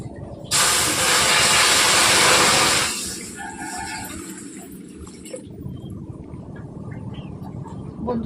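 A lit cooking stove roaring under a wok, set up to make payesh with Gobindobhog rice and cow's milk, heard as a loud close hiss of gas flame that drops to a lower, steady rumble after a few seconds.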